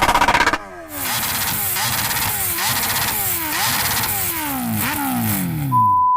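A Kawasaki Ninja H2R's supercharged 1-liter, 310-horsepower engine revs hard in repeated rising sweeps, pitch climbing and dropping through several gear changes, ending on a steady high tone.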